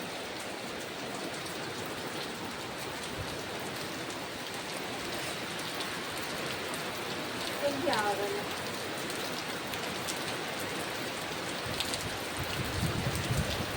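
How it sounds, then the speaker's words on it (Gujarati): Heavy rain pours down in a steady, dense hiss that barely changes, with a brief faint voice partway through. "વરસાદ આવવાનું ચાલુ થઈ ગયું"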